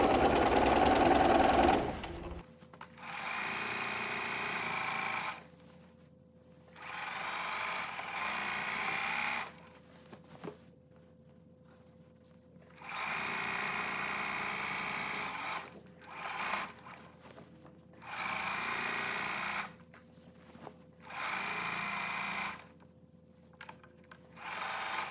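A sewing machine stitches a flannel rag quilt in repeated bursts of a few seconds each, a close mechanical whir separated by short silent pauses.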